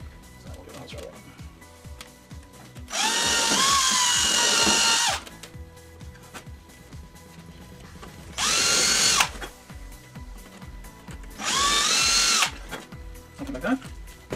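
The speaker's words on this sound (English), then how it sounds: "So we'll drill holes right away." A power drill boring holes while building a CAP 232 model aircraft runs in three loud, steady bursts of a few seconds each, separated by quieter pauses with faint handling noise.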